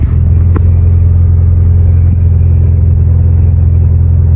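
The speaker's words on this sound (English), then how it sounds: "that is a much smoother idle than it was before" Acura Integra engine idling after a new distributor cap, rotor and plug wires, a loud, steady low rumble heard close up with an even, smooth rhythm throughout.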